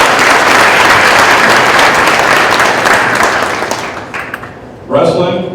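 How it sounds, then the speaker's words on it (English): Loud applause from a crowd at a winter sports awards ceremony honoring a wrestler, a dense steady roar of clapping that fades out near the end before a voice begins speaking. "So a round of applause for Liam."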